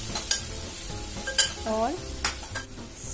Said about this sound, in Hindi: टमाटरों को भी अच्छे से फ्राई कर दूँगी